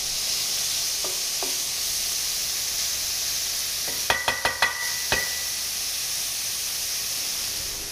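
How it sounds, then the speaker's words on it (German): Vegetables seasoned with Provence herbs cook in a pan, giving a steady sizzling hiss with a few sharp clinks of utensil on pan near the middle; no talking. "Wir garen das Gemüse bissfest, damit auch noch Vitamine erhalten bleiben."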